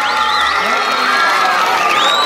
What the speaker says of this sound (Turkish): Hadi bir alkış veriyoruz abimiz için.